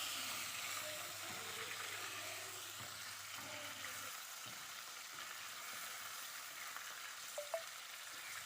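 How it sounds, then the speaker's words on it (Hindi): Chicken sizzles steadily in oil in a karahi for dhaba-style chicken karahi, a constant close frying hiss with occasional faint stirring clinks and no talking. "चिकन को वक्फे वक्फे से हिलाते रहें ताकि सारे पीसेस पर कलर एक जैसा आए।"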